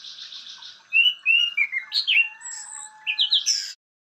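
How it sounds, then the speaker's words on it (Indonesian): Geomalia thrush (Geomalia heinrichi) singing, a clear run of high whistled and chirped notes in quick succession over a steady faint background tone, ending abruptly. "Burung anis geomalia."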